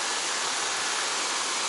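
Kuang Si waterfall near Luang Prabang, Laos, a steady broadband rush of falling water, loud and continuous with no breaks.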